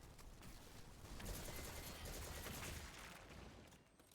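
Dense gunfire in the Destiny 2 video game, a faint, continuous rattle of shots lasting a few seconds.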